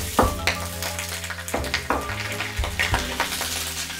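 Pork belly and cured pork hit a hot wok and fry with a steady sizzle, punctuated by several sharp clanks of a spatula stirring against the metal, close up with no talk.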